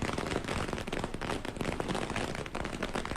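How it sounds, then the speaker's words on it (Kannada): Firecrackers burst in a victory celebration, a dense, continuous run of rapid cracks and pops that crackle like heavy rain throughout. "ಪಟಾಕಿಯನ್ನು ಸಿಡಿಸಿ ಸಂಭ್ರಮಾಚರಣೆಯನ್ನು ಮಾಡ್ತಾ ಇರುವಂತಹ ದೃಶ್ಯಗಳನ್ನು ನೀವು ಗಮನಿಸ್ತಾ ಇದ್ದೀರಾ."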